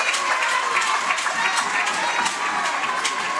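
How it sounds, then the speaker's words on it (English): Crowd applause and cheering for both teams fill a women's wheelchair basketball game between Canada and the Netherlands, a steady, dense wash of clapping and shouts with no pause. "30 more seconds of applause."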